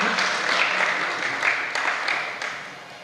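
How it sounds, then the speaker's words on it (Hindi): An audience claps continuously at a religious sermon gathering in Dhaulpur, Rajasthan, producing a dense wash of hand claps with a few swells throughout. "ताली से ऐसे बजा रहे जैसे बुंदेलखंड से सीख के आए हो।"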